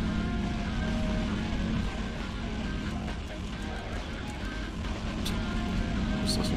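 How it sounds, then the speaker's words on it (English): A car engine in the Hot Wheels: Beat That racing video game drones continuously and loudly, dipping slightly as the throttle cuts off and comes back on. "Just listening to the car's engine. Not quite revving, just kind of cutting off and sometimes coming back on by mashing the gas button."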